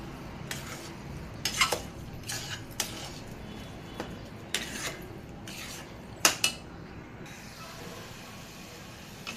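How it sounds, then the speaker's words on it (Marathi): A spoon stirs mango sheera in a metal pan, making a series of quiet, irregular scraping and clinking strokes over a faint background hiss, about a dozen separate stirs. "परत छान असं हलवून घेऊ."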